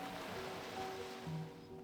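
Ocean waves wash onto a Bali beach in a soft, continuous surf hiss, faint and somewhat distant, with no voices.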